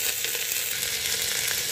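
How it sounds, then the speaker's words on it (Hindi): Lentils and chopped drumsticks fry in oil inside a pressure cooker, giving a steady close hiss and sizzle with no talking. "दाल हमारा भून गया है, अब हम इसमें सहजन को डाल देते हैं। हल्का सा इसे भूनेंगे।"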